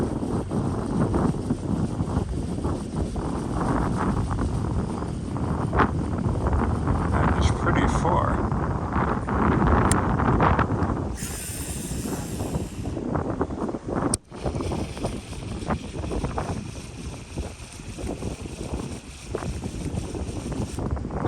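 Strong wind buffeting the microphone during fishing reel casting with an Abu Garcia Pro Max, a continuous loud roar with brief gusts and dips and a few faint clicks.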